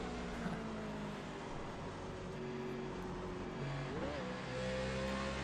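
A NASCAR Nationwide race car in the iRacing sim at Phoenix drones steadily at high revs, with an engine tone that holds and shifts pitch slightly near the end. Continuous and close, no talk over it.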